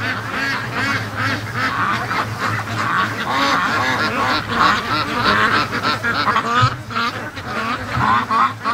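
Hundreds of free-range ducks in a pen keep up a loud, overlapping quacking chorus, close and continuous, with a faint steady hum underneath and no talking.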